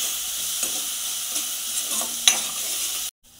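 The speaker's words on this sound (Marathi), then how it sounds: "2 ते 3 मिनिट चांगली मिरची आणि लसूण परतून घ्यायचं आहे।" Finely chopped garlic and green chilies fry in oil while being stirred, with a steady close sizzle and a few light scraping strokes.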